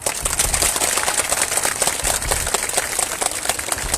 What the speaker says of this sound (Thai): ช่วยปรบมือ ให้กำลังใจให้ขอบคุณให้คำขอบคุณ กับทีมงานจังหวัดนครสวรรค์ด้วยครับ